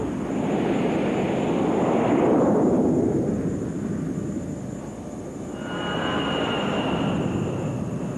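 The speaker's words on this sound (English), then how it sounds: "The beginning of this cycle of CQ is marked by the launch of an ES-3." An ES-3 Viking jet launches from an aircraft carrier deck: a loud engine roar swells and sweeps past, fades, then a second high-pitched jet whine rises and holds steady, with no talking.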